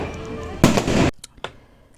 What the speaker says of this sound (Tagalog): Pero buti na lang meron dito sa may amin na maganda at malaking fireworks